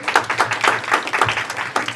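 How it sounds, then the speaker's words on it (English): Sustained applause from an audience at a declamation contest, dense clapping with no pause, fairly loud and close. "let's give a big round of applause one more time,"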